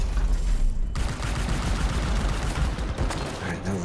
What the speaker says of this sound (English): Freaking rocket turret.